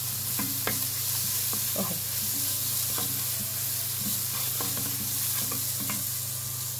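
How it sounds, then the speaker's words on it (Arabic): Crushed garlic, coriander and black pepper frying for a spinach dish, a steady loud sizzle with repeated stirring scrapes and clinks throughout, and one brief spoken word. "انا بحب اعمل لها طشه ثوم، بدق ثوم وكزبره وفلفل اسمر"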